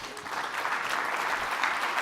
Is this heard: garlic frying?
no